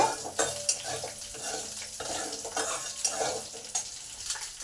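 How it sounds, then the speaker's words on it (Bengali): Dried red chillies and cumin fry in hot oil in a pan, giving a soft, continuous sizzle broken by scraping and stirring clinks from a utensil against the pan, heard fairly close with no talking. "জিরে আর লঙ্কাটাকে ভালো করে এক মিনিট ভেজে নেব"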